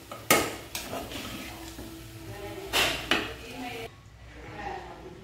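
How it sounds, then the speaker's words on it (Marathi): A spoon stirs and sautés a vegetable pulao mixture in a pan, with a few sharp metallic scrapes and clanks against the pan over a low background, fairly quiet and close. "सर्व मिश्रण एकत्र करून घ्यायचं व्यवस्थित, छानपैकी परतून घ्यायचे"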